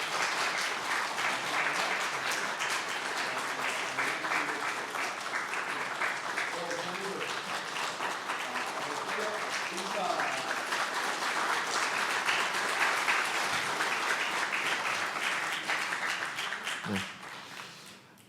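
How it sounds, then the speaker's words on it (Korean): A church congregation applauds during a Sunday morning service as a new deacon is appointed, sustained dense clapping filling the room for about seventeen seconds before tapering off at the end. "우리 큰 박수 부탁드리겠습니다"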